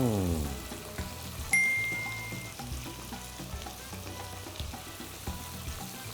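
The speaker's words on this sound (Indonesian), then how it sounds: "habis ini petenya dulu ya, harus kena minyak goreng sebentar supaya wanginya keluar ya" Petai beans frying briefly in hot cooking oil for a stir-fry with salted fish and cassava leaves, giving a steady close sizzle with stirring clatter and a sharp tap near the start.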